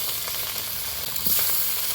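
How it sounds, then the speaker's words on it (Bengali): Rupabatia fish fries in hot oil in a wok, giving a loud, continuous hiss and crackle with a slight surge of spattering near the end and no voices. "রূপাবাটিয়া মাছটা টকের জন্য পারফেক্ট করে ভেজে নিব"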